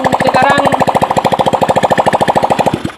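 A Honda Vario 110 carburetor scooter engine, freshly assembled and running without its exhaust or air filter fitted, chugs loud and close in a fast, even rhythmic pulse before shutting off at the end.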